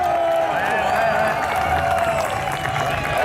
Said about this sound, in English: I want to hear a big round of applause to Big Rips.